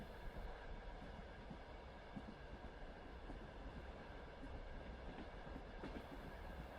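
Night train wheels roll steadily over the rails on a winter journey, a continuous low rumble with soft rhythmic clatter and a faint high hiss, even and unbroken throughout.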